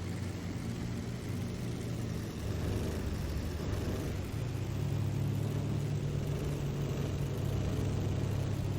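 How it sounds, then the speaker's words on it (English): A 1924 Bugatti T35 engine in the racing game Assetto Corsa drones steadily, its revs rising and shifting as it downshifts, a continuous near rumble with no voices. "Gonna rev range up, try to downshift there."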